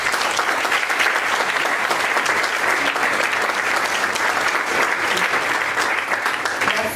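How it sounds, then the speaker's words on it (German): Audience applause at a Berlin event celebrating a women's digital media network, dense continuous clapping from a sizable crowd at an even loud level throughout. "ein großer Applaus bitte"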